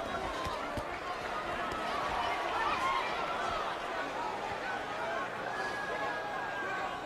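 A boxing arena crowd at the 1994 Roy Jones Jr. vs. James Toney fight lets out a steady, rumbling murmur after a left hook, with voices mixed into the din.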